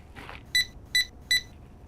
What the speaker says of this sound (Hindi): ऋषि, मेरा फोन उठा लो ना प्लीज